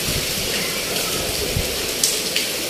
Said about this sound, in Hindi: देखो बारिश